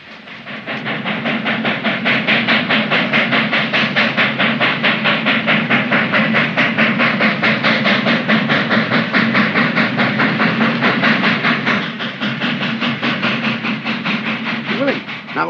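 A train rolls steadily along the rails, a loud continuous rumble with a fast rhythmic clatter and hiss running throughout, easing slightly near the end.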